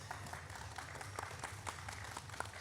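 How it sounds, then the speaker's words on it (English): Audience applause for the panelists at an art, technology and AI panel discussion, a soft, steady patter of clapping heard from a distance at low level. "A round of applause for the panelists."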